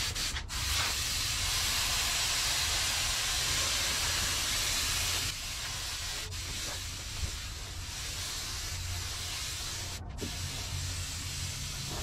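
A paint spray gun hisses in long continuous bursts over a Honda CRX fender, broken by a few brief pauses between passes, loud and close with no talk.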